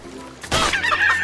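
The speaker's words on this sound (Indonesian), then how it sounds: "Oh, ini kita udah ketemu ayam." A chicken creature in the video game CHKN lets out a short, sharp clucking squawk, loud and close, after a brief quiet moment.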